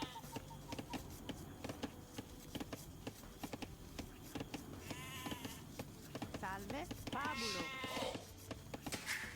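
Sheep bleat in Age of Empires II, several wavering calls in the second half over a constant patter of rapid game clicks and in-game ambience.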